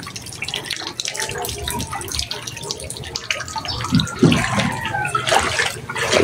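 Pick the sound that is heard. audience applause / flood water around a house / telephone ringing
flood water around a house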